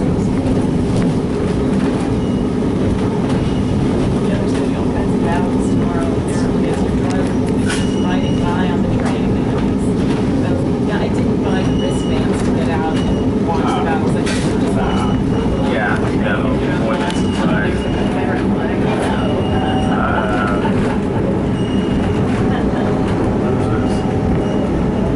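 Strasburg Railroad passenger train rolling along the tracks during a Civil War days event, giving a steady, loud rumble and rattle of cars throughout, with people talking over it.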